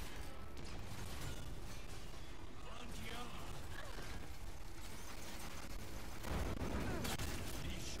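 Gunfire in the Xbox One shooter Gears 5: repeated bursts of shots and mechanical weapon clatter run throughout, with dense overlapping reports and a heavier burst near the end.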